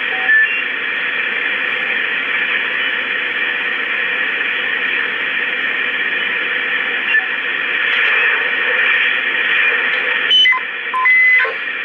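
HF radio noise received on an HP3586B selective level meter used as a shortwave receiver: a steady hiss with constant tonal hum bands, broken near the end by brief chirps and tuning blips.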